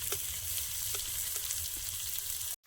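Chopped onion fries in a pan with ginger, garlic and green chili for vegetable chops, a steady close crackling sizzle that stops abruptly near the end.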